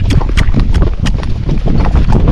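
Hooves of a Rocky Mountain gaited horse in a quick, trotty gait, giving a steady, close, loud clip-clop of rapid footfalls with no talk over it.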